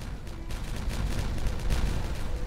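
Rapid crackling bursts of demolition blasts in the city-building game Timberborn, a dense run of sharp explosive pops lasting throughout at steady, fairly loud level, with no talking.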